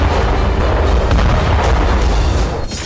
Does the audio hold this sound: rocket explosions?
yes